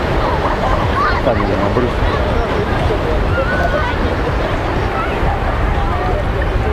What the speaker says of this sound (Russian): Ну, посмотрите, какие волны.